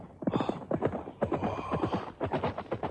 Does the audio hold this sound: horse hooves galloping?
yes